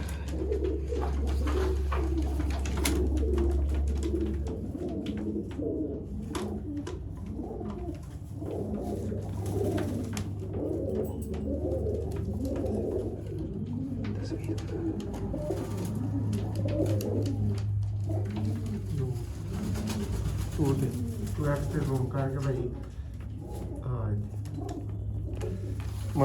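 Sialkoti pigeons kept on a rooftop coo in low, steady murmurs through the whole stretch, mixed with someone talking and a constant low hum.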